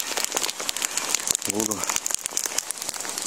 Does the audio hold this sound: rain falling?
yes